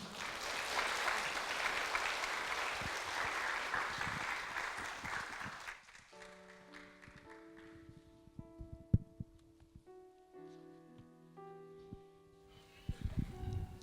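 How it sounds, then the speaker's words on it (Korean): A church congregation at a Sunday worship service applauds to welcome a testimony speaker, a dense wash of clapping that runs for about six seconds and then gives way to soft piano-like tones. "우리 나오실 때 박수로 환영하시겠습니다"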